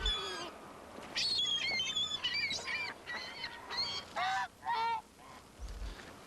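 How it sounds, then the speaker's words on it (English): Canada geese honking at close range, a series of loud, nasal honks in uneven bursts, some overlapping, over quiet background. "The big ones are Canadian geese."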